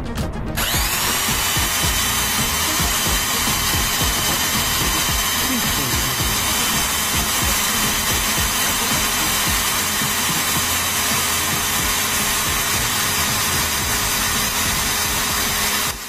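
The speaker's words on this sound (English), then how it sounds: "if this small electric drill can bring the generator to the excitation point or not" A small electric drill spinning a 1000 VA single-phase synchronous generator whirs steadily at high speed after a brief start, a continuous loud mechanical whine with a faint hum beneath.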